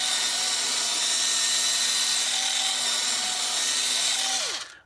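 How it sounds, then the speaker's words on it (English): A wire brush drill bit cleans out threads on a 2018 Mitsubishi Outlander during hitch installation: a steady high-pitched whirring with a gritty scratching texture runs for several seconds, then winds down and stops. "Go and grab one of these wire brush drill bits. Just clean out the threads."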